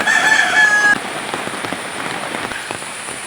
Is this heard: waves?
no